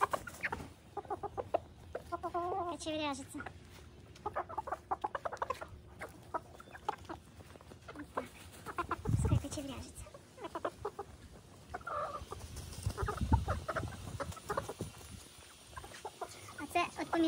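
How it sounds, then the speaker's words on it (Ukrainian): Pale mini meat-breed chickens cluck close by while a person talks intermittently, with a rooster crowing partway through amid farmyard noise. "От ви і чули кукурікання."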